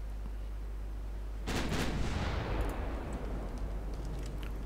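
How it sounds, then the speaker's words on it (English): A 9-inch naval gun salvo from an Italian 1917 dreadnought in Ultimate Admiral Dreadnoughts lands as one sudden loud boom after a quiet stretch, then rolls into a long, rumbling tail of distant echoing blasts. "My 9-inch guns are firing."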